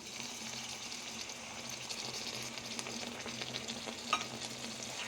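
Chilli pickle fries in oil as a small bowl of vinegar goes in, giving a steady close sizzle with soft stirring scrapes and a brief splash partway through, with no voices.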